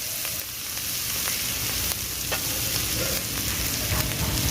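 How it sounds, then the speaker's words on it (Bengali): Coriander and cumin powder being stir-fried in a pan, a steady close sizzle with scraping stir sounds running throughout, no talking. "এই যে ধনে জিরে গুঁড়ো দিয়ে ভালো করে নাড়াচাড়া করে একটু কষিয়ে নেবো"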